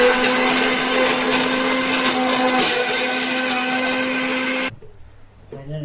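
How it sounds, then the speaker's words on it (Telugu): A mixer grinder loudly blends soaked tomato and tamarind, a dense steady motor whine running for almost five seconds before cutting off abruptly into near silence with faint room noise. "నానబెట్టిన టమాటీ చింతపండు వేసి ఇంకా మిక్సీ అయితే చేసేస్తుంది"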